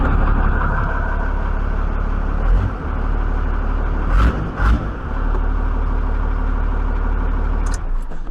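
A Dodge Cummins diesel engine, hooked up through its fuel shutoff solenoid and troubled by lost oil pressure, runs with a steady close-up rumble for about eight seconds, with a few brief heavier surges along the way.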